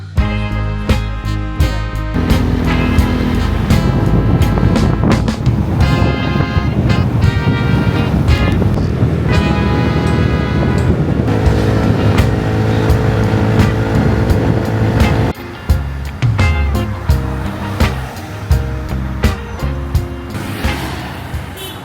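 Scooter ride on the island of Koh Samui, with a steady engine drone and heavy wind rush sustained throughout, loud and close, shifting in pitch as the scooter speeds up and slows.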